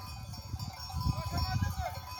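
Sheep bleating in a flock, several wavering calls rising over a low murmur of animals and faint background voices.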